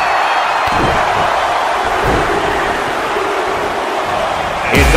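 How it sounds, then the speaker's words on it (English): Wrestling arena crowd at a Royal Rumble event, a dense, loud roar filling the whole clip with rhythmic swells suggesting chanting in unison as the countdown to the next entrant builds. "Listen to this crowd count the next one in."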